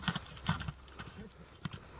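A horse runs on soft ground, its hooves clip-clopping in an uneven series of dull thuds at close range, with faint background noise between the beats.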